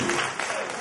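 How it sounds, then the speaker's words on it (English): Audience clapping for a young boy at a nomination night event, a dense, steady burst of applause filling the short moment without any voices on top. "Let's clap for Prince"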